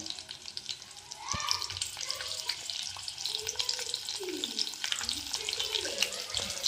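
Green chilies frying and crackling in hot oil, a fine continuous sizzle with scattered pops and splatters, moderately close, with faint background sounds but no clear talk.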